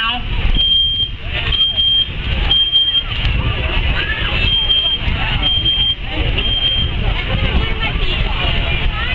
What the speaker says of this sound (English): We got the smoke detector going off now.